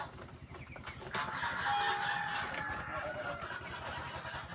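Chickens cluck and a rooster crows near a newly built chicken nest on a farm, a few overlapping calls rising after the first second, moderately close with a steady background hum.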